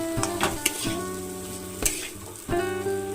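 Chickpeas stirred into a frying spice masala for a pumpkin chakka, with loud close sizzling, sharp spoon clanks against the pan and bursts of hiss as the mix is turned.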